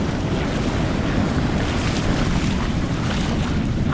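Ocean waves surge loudly onto a California beach on a cold winter day, a constant roaring wash of surf with heavy wind buffeting the microphone.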